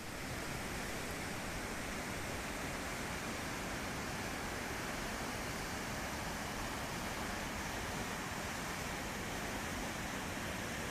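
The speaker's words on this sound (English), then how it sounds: "I was redirected to this rather more impressive rapids." Rushing river rapids along a lonely highway toward Kegashka on Quebec's North Shore, a steady, loud broadband roar of cascading water that holds unbroken and close for the whole stretch, with no voices.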